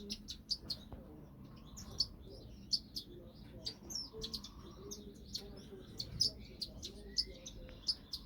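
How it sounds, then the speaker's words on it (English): A fawn Silverbill finch chirping in an aviary bird shed, short high repeated tweets spaced every half second or so, with a person's low voice and handling noises underneath. "it's a nice little fawn Silverbill"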